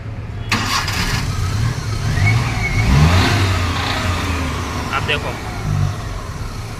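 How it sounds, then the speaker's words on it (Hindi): A Maruti Omni van running on gas, with a weak pickup problem, cranks and fires up, then its engine idles unevenly and revs up and down close by while someone talks over it. "तो देखो मैं फिर से स्टार्ट करता हूँ आप लोगों के सामने। देखो गैस पर ही है गाड़ी"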